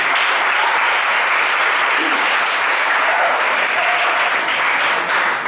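Audience applause for a parish choir at a thank-you ceremony in Togo, steady dense clapping from a crowd filling the whole stretch, loud and continuous without pause.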